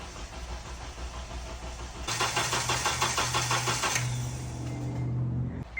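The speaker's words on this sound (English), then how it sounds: "2003 Honda Element cranks but doesn't start." A 2003 Honda Element that cranks but won't start: after a quiet stretch, about two seconds of loud, rhythmic starter cranking that stops without the engine catching, then a low steady hum.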